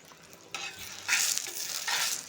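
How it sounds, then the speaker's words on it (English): Oil hits a hot pan while a carrot chapati cooks, giving a soft crackling sizzle that starts after a quiet moment and swells into a steady bright hiss, close and fairly quiet, with no voices. "you're going to scoop out some cooking oil and add in the pan"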